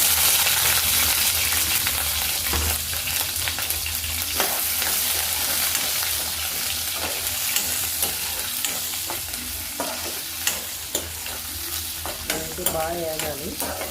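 Onion pieces fry in oil with mustard seeds and chilli for semiya upma, a dense close sizzle broken by frequent stirring scrapes and taps of a spatula.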